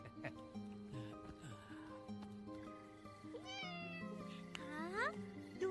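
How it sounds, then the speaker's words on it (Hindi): A domestic cat meows repeatedly indoors, a series of rising and falling cries with distinct calls near the end, over quiet background sounds and occasional low voices. "हाँ, दूसरी बिल्ली।"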